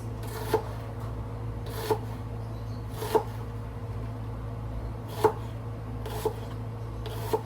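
A knife chops onions on a board with sharp, evenly spaced thuds about once a second, heard clearly over a low steady hum, with no speech.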